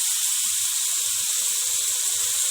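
Chopped onions hit a pan of cooked minced meat, giving a steady, bright sizzling hiss throughout, with faint low bubbling pops underneath and no one talking.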